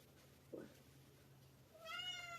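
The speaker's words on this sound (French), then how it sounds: "Oui, mon chat vous dit bonjour." A house cat meows in a kitchen, one faint short sound followed by a longer rising meow near the end, heard alone without talk.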